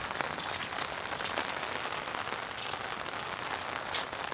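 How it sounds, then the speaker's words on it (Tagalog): Steady rain falling on a rural farm with pigs, a dense, even patter of drops on surfaces, continuous and fairly near with no talking. "Walang kasawa ang ulan."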